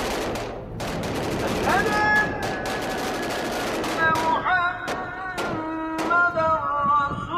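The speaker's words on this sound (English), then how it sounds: "what started as sporadic gunfire quickly became overwhelming from all directions" Sustained gunfire and machine gun bursts crackle from many directions in a city of over two million people, sharp repeated shots layered over a distant call to prayer, with a voice chanting throughout.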